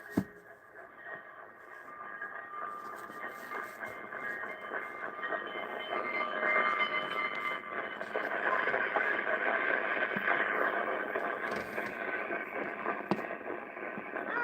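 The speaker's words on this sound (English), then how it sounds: "Here comes the Fireball Express now." The Fireball Express train pulls in with a steady, rising rumble and rail noise, loud and close for the whole stretch, carrying a faint radio-like tone.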